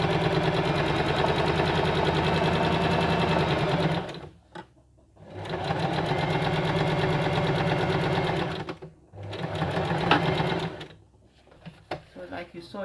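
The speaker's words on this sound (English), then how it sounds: "then I carry on stitching" Sewing machine stitching two fabrics into a seam with forward and backward stitches, running in two long steady bursts of rapid mechanical chatter separated by a brief stop, then a shorter stretch of lighter, broken stitching.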